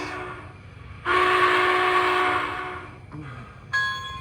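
MTH model train engines, a Challenger and a Norfolk and Western, sound their whistles: one long sustained blast, then a short brief toot and the start of another, loud and close.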